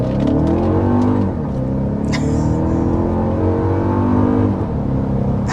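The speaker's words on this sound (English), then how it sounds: "It pulls hard." A 2025 Ford Explorer Platinum with a 400-horsepower twin-turbo V6 accelerates hard from inside the cabin, engine tone climbing through gears in a loud continuous drone with brief shift dips.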